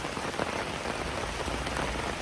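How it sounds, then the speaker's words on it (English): Steady rain falls outside in a garden, a dense, even hiss of drops hitting surfaces with no voices. "It's raining, and I want to show you how I harvest rainwater."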